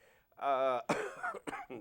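A single throaty cough with a rough voiced rasp, followed by a couple of short, harsh bursts of breath, close to the listener.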